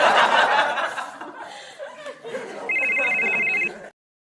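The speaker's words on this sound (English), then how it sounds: "that is not your phone ringing" Electronic telephone ring, a steady trilling tone lasting about a second near the end, following a stretch of lively laughter and chatter.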